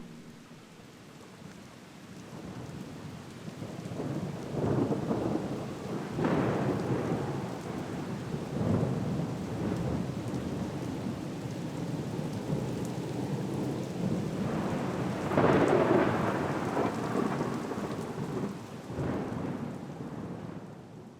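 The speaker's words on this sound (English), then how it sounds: "Last night's thunderstorm was really nice." A night thunderstorm with steady rain falling on surfaces, broken by several rolling rumbles of thunder, a big one early and another near the middle; no voices.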